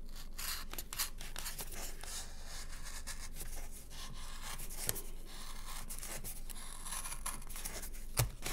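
Scissors or a craft knife cutting through a cardboard box piece for a children's piggy bank craft, a steady close rasping and crunching that runs continuously, with a few sharper snips and one louder crunch near the end, no talking.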